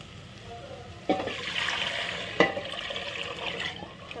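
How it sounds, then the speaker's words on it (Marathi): Lentil cooking water is poured into fried masala in a home kitchen, with two sharp splashes and a continuous liquid pour and bubbling between them, close and fairly loud. "आता यात डाळीचं पाणी टाकायचं आहे"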